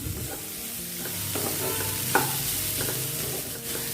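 Grated coconut is stirred through carrot poriyal frying in a pan, a soft constant sizzle broken by several scraping strokes and one sharp clink of the spoon against the pan, close up with no talking.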